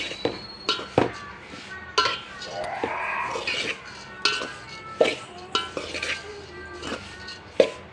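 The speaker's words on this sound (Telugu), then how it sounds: "ఇక్కడైతే ఓట్స్ వేయించుకుంటున్నా. మంచిగా వేయించుకోవాలి." Oats roasting in a pan while being stirred, with repeated clinks and scrapes of a utensil against the metal pan in an irregular rhythm, close and moderately loud, with a faint sizzle underneath.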